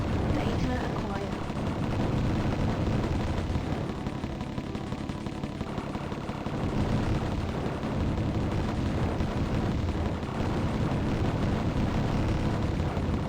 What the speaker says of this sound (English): Lots of exploding.